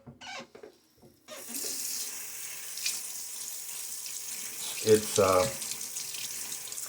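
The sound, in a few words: rinsing a container under a running tap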